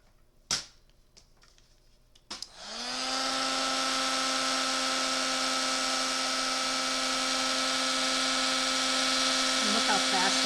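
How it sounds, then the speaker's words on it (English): A handheld heat tool blows hot air to emboss a holiday card. After a couple of clicks, it starts with a rising whir and settles into a steady, loud, high-pitched electric blowing hum. "So I told you when the heat tool heats up,"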